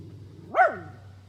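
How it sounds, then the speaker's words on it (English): A single short dog bark sounds at moderate distance against a quiet outdoor background, near a hummingbird feeder. "What are you barking at?"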